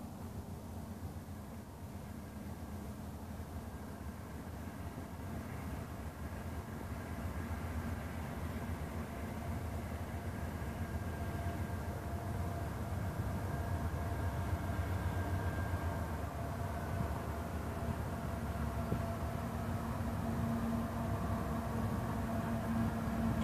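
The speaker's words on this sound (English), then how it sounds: "westbound Union Pacific on a Martinez subdivision" Union Pacific 2721 westbound freight train passing on the Martinez subdivision in West Sacramento, a steady low rumble of locomotive and rolling cars that builds slightly and holds at moderate distance.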